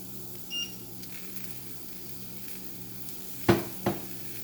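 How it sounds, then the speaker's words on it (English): Quiet, steady sizzling of marinated mushrooms in a pan close by, with a couple of sharp clanks of a utensil near the end. "But it's sizzling up for me"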